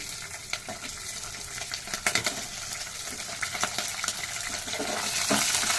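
Dried red chillies, green chillies and peanuts frying in hot oil for mango pulihora, a sizzling crackle with scattered sharp pops and stirring clinks, steady and close.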